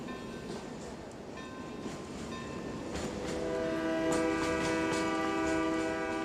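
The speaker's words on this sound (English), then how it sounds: "Daddy, Daddy, I hear the train." An animated cartoon train approaches, its rumble swelling steadily louder before a sustained horn blares near the end.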